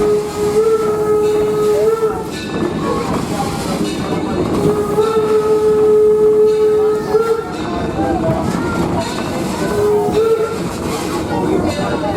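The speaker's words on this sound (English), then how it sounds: "it's one of 3 coal-fired steam-powered locomotives that operate the trains here on the railroad" Coal-fired steam locomotive Torch Lake No. 3 at Greenfield Village, its steam whistle sounding in three long sustained blasts over the hiss and rumble of the running train, loud and close.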